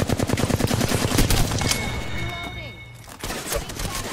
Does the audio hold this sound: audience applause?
no